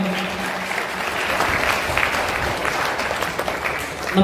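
Sustained audience applause fills a church hall during a faith formation inauguration, steady and dense from start to finish with no break.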